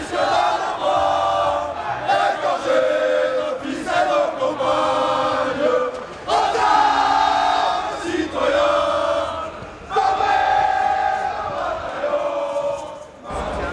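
Supporters of the French butchery team at a competition in Ireland, a loud crowd shouting and cheering in rising waves with chanting voices, sounding close and sustained.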